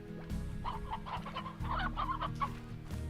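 An elder hen in a video game clucks loudly and nearby, giving a busy string of short, choppy clucks and squawks.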